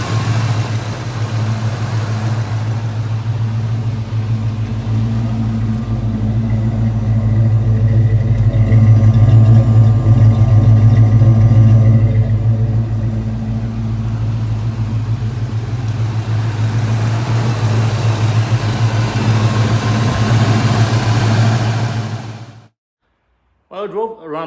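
A Fox Body Mustang engine runs steadily at idle after a fuel injector replacement, a loud, even low rumble that holds for about 22 seconds before cutting off abruptly, with a brief noise afterward.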